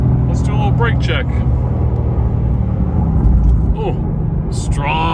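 A 2024 Mustang Dark Horse braking hard during a drive, its engine rumble and road noise loud and close throughout, with a driver talking over it.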